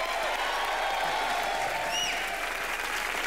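Loud, sustained applause from a live studio audience on a Hindi comedy talk show with Salman Khan as guest, a dense steady roar of clapping with faint whistles and crowd noise throughout.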